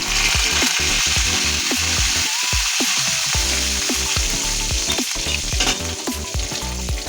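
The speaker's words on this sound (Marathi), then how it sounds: "तेल तर तापले आपण थोडीशी मोहरी टाकूया त्याच्यात हिंग घालूया" Mustard seeds, asafoetida and curry leaves fry in hot oil for Mumbai-style vada pav, a loud steady sizzle with sharp crackles and pops scattered throughout, close up and with no voices.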